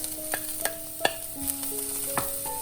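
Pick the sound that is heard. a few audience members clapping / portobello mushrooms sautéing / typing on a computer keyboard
portobello mushrooms sautéing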